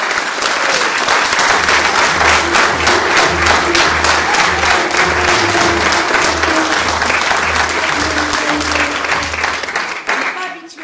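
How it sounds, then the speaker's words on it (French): Sustained, loud audience applause for a children's theatre workshop's first performance, dense clapping filling the room for about ten seconds before tapering off at the end, with some crowd voices mixed in. "un tonnerre d'applaudissements pour leur première"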